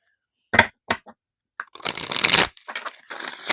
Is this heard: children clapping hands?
no